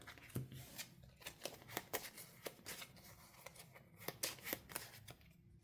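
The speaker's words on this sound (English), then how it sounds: "shuffle it back to our deck." Playing cards are shuffled back into a deck during a tabletop card game, a string of quick crisp riffling bursts and soft snaps, close and fairly quiet, repeating irregularly with no talking.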